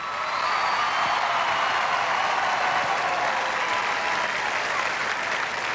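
Audience at the televised Miss Teen USA 2001 pageant applauding: a loud, sustained wash of clapping from a large crowd, steady from start to finish with no speech over it.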